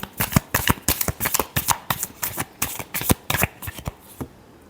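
Tarot cards being shuffled by hand, a rapid series of crisp riffling flutters and soft slaps, close and clear, with no talking.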